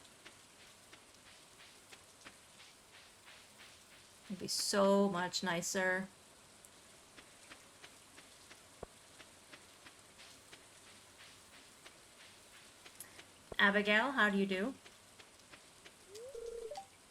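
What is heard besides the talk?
rain in the video game Stardew Valley Expanded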